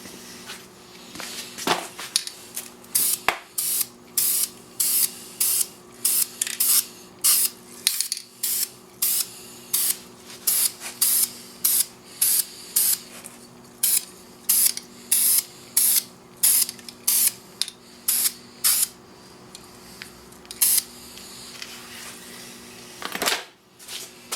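A Smith & Wesson Sigma handgun being spray painted from an aerosol can, heard as a long run of short, sharp hissing bursts separated by brief pauses, loud and close, with no speech.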